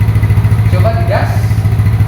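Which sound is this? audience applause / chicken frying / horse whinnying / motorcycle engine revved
motorcycle engine revved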